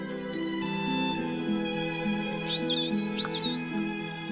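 Parrots drinking flower nectar give a few short squeaky chirps and whistles over a sustained musical backdrop, the calls clustered in the middle and fairly faint.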